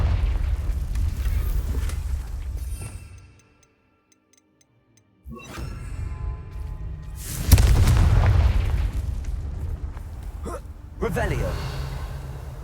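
Confringo blasting spell from Hogwarts Legacy going off as two heavy booming bursts, each followed by a rumbling tail, amid ongoing game sounds and a short stretch of near-silence.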